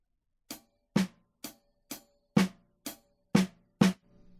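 Eight crisp drum strokes of a single paradiddle fall at an even, moderate pace, right hand on hi-hat and left on snare, some accented louder than others, played alone.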